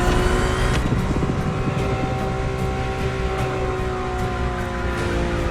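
A Ferrari engine in The Crew Motorfest holds a steady, loud drone with layered harmonics, surging slightly at the start and then sustaining evenly without talk.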